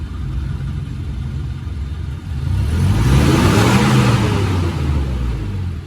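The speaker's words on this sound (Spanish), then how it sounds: "Dame acelerando, por favor." A Toyota Hilux 2.7 engine idles steadily, then revs up sharply as it is accelerated and holds a higher, rising drone, heard close and loud with no talking.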